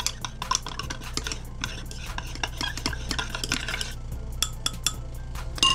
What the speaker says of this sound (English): So you mix it well.